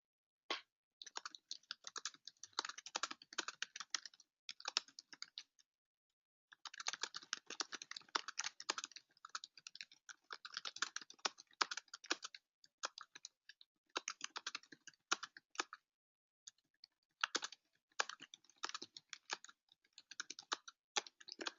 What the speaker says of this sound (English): I'm just going to type in some details about our conversation and go ahead and add that in